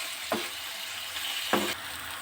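A mixture sizzles steadily in a hot pan while a metal spatula stirs it, two distinct scraping strokes standing out over the constant close frying hiss.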